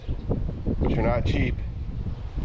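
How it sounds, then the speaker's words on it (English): Steady wind rumbles and buffets the microphone outdoors at a deck build while someone speaks briefly over it. "Sorry about the wind, it's always windy out here."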